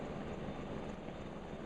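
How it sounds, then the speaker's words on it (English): A large yellow medical helicopter flies away, a continuous rotor and engine drone that stays fairly loud and steady throughout. "Away flies the big helicopter into the sunset."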